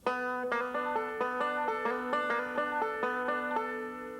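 Five-string banjo picks a steady passage that climbs to a high B, with bright, evenly spaced plucked notes ringing over a sustained drone. It is played solo and up close.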